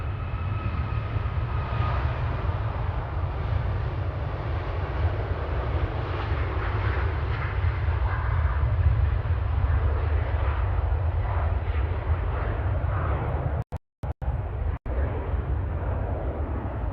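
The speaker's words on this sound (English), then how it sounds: "Ryanair on the roll now, heading to Rome, flight 3206, the ALP and MAX 8." Ryanair Boeing 737 MAX 8 on its takeoff roll at Manchester Airport, a loud, sustained jet engine roar with deep rumble, steady throughout apart from two brief dropouts near the end.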